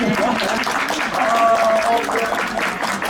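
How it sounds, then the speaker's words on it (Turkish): A small group applauds at a gathering in Turkey where a cerebral palsy patient receives a powered wheelchair; clapping fills the scene with voices and a few tonal sounds mixed in. "Başkanımız bir alkış hak ediyor değil mi?"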